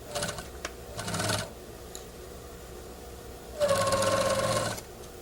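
A sewing machine stitches a pocket seam on a garment in three short runs of rapid mechanical ticking, one at the start, a second soon after and a longer burst near the end, with quiet pauses between.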